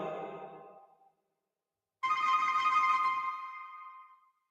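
Telephone ringtone with two distinct bursts: a short ring, a second of silence, then a brighter, longer tonal ring that fades out, fairly faint, with no talking.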